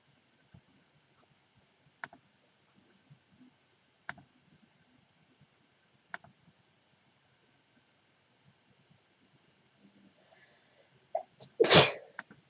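A single sharp sneeze near the end after a long quiet stretch broken only by a few faint, isolated clicks.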